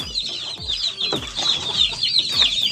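Chickens and chicks clucking close by on a farm, with repeated low hen clucks under a steady stream of high peeping from the chicks, continuous and fairly loud, with no talking.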